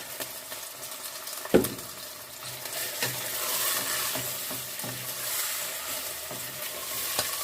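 Potatoes sizzle steadily in a hot pot for a one-pot soup, with a few scraping stirs and a sharp clatter near the start.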